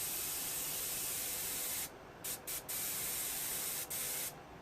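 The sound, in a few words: airbrush spraying paint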